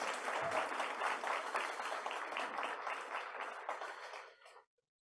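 Conference audience applause for the director rings out as dense, steady clapping that gradually thins and fades before stopping abruptly near the end.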